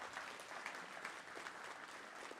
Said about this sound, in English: So I'm going to give yourself a round of applause,